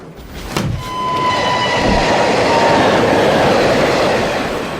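A train rumbles steadily along the rails with a low continuous roar and faint metallic squeal, close and loud throughout.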